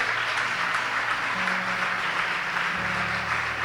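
Church congregation at a Wednesday evening Holy Spirit service giving a strong round of applause, a dense continuous roar of clapping with a low musical drone beneath it.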